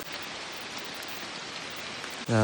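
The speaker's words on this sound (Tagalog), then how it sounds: "Grabe, ulan kayo mga ka-teammates, no?" Steady rain pours down on a wet mountain trail during a Mt. Apo day hike, a constant dense hiss filling the air, ending in a sudden loud low rumble right at the close.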